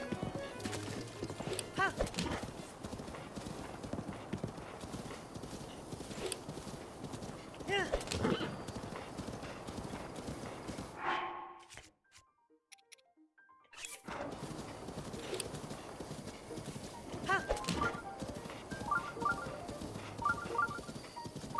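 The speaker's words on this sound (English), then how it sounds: "I love how the horse gets hung up on stuff like that." A horse in a Zelda game gallops with rapid rhythmic clip-clop hoofbeats and occasional whinnies, loud and steady, broken by a brief near-silent pause before the galloping resumes.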